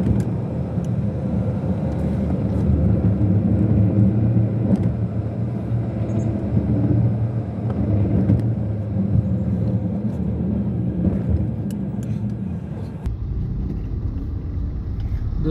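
Steady live road traffic rumbles past Metro Line 9 construction in Mira Bhayander, Mumbai, a continuous low drone of engines and passing vehicles with no voices, easing off slightly near the end.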